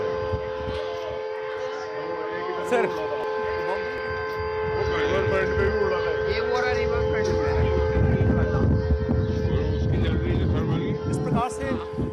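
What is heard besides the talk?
civil defense mock drill siren in Delhi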